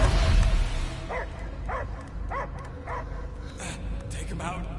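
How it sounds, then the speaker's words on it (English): A dog in Guardians of the Galaxy barks five or six times in a steady rhythm, each bark a rising-then-falling yelp, set against a dense, rumbling game soundscape. "I hear only barking"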